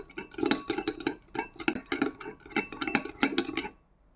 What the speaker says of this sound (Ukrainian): добре-добре перемішуємо